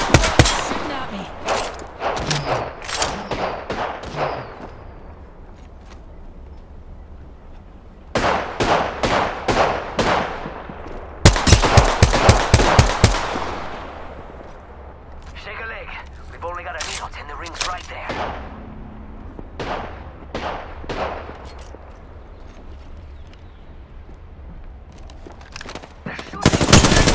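Bursts of automatic gunfire in Apex Legends crack out in rapid, repeated volleys, some close and loud, others quieter and more distant, with a player's voice talking between the bursts.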